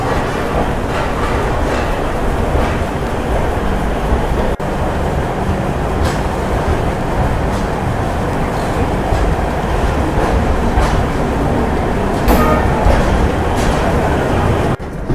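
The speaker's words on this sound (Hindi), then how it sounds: "तो अभी हम डिपार्ट कर रहे हैं अहमदाबाद जंक्शन से" A loud, steady rumble of the Ashram Express pulling out of Ahmedabad Junction, heard from inside a third-class AC coach, with continuous wheel and carriage noise and occasional clicks and clanks, no talking.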